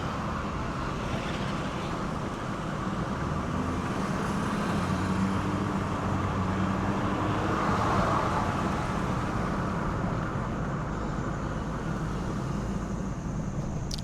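Suzuki Baleno CVT car driving on the road, with a continuous even rumble of engine, tyres and road noise heard from inside the cabin, no distinct braking event standing out.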